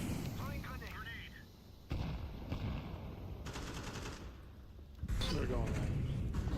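Rapid bursts of gunfire and a booming grenade blast ring out in a Counter-Strike 2 match, loud and close, with heavy impacts and sharp shots; player callouts are spoken over the combat.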